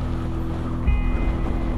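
Wind gusts buffet the microphone on an outdoor motorcycle outing at Chateau Impney, producing a steady low roaring rumble that swells briefly partway through, with no talk.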